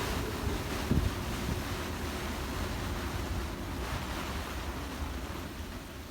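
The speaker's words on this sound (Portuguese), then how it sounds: "mas o vento ainda continua" Strong wind buffeting a sailboat at anchor, a continuous roaring rush of gusts with water and hull noise beneath, loud and steady throughout with no voices.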